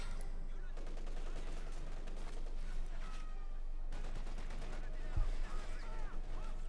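Machine gun fire from Company of Heroes 2, paratroopers' double light machine guns and MG-34 bursts in a battle, dense rattling volleys with a heavier thump near the end, mixed under a steady game soundscape.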